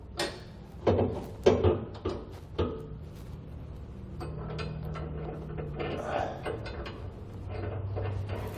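Bottom bolts being fastened on a B&W Companion 5th wheel underbed hitch bracket in a 2011 Dodge, close metallic clanks and ratcheting clicks early on, then softer intermittent mechanical rattling.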